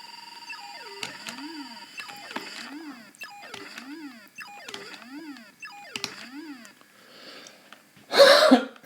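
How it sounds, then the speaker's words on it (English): A single sharp cough close to the mic near the end, following a run of repeating electronic beeps and sweeping tones from a Vectrex game being played in the dark. "Excuse my coughing."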